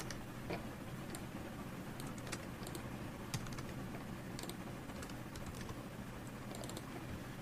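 Code is typed on a computer keyboard in short clusters of light clicks, fairly faint beneath a steady background hum.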